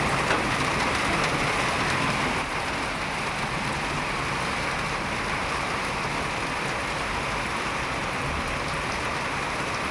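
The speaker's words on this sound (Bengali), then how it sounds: "বৃষ্টি পড়ছে, সাথে সাথে আবার রোদও দিচ্ছে, রোদও উঠছে, বৃষ্টি পড়ছে।" Steady rain falls across a mango orchard, a dense continuous hiss of drops on leaves and ground that is close and even for the whole stretch, with no voices.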